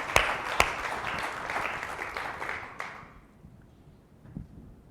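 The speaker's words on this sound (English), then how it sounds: "I'd love to give these guys a round of an amazing round of applause for their being vulnerable" Audience applause after a manufacturing panel session, a fairly soft spread of clapping with a few sharp claps near the start, fading out by the end into near quiet.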